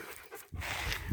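A dog panting outdoors on a walk, soft and close, in quick breathy bursts, quiet overall.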